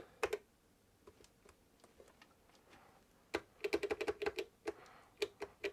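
Keys being pressed on a ZX81 home computer keyboard with a worn membrane: scattered single taps at first, then a rapid burst of clicky presses, fairly close and alone.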